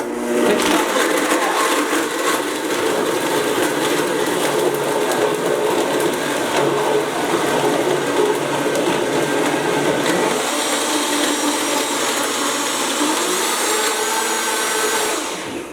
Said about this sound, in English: We'll get this thing started and pop a few in there. And it's a little bit loud.